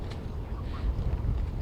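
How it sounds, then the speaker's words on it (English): Strong wind gusting across a softball field and blowing dust, a loud, rough buffeting roar that swells and surges continuously for the short stretch. "Very windy here"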